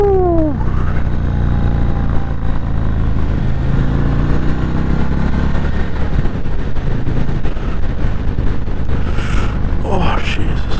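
Indian Chief Bobber motorcycle ridden on a test ride, a continuous loud engine drone with wind rush and a rise in revs near the start, with a rider's voice heard over it.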